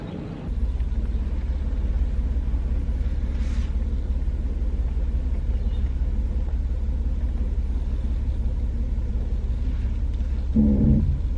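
A newly bought car's engine idles with a steady low rumble, close and continuous throughout, with a brief louder surge near the end.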